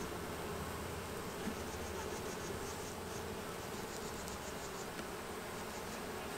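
Honeybees buzz steadily around a hive during an oxalic acid vapor treatment for varroa mites, a dense continuous hum that holds at an even level throughout with no talking.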